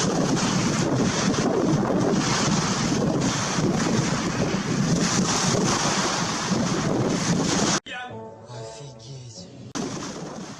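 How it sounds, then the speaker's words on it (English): Strong wind buffets the microphone beside crashing surf at a beach, a loud continuous roar for about eight seconds before it cuts to quieter, calmer wind and water. "Fortunately, it's very windy right now, so I don't even know if you can hear me well."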